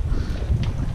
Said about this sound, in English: It's so windy all of a sudden.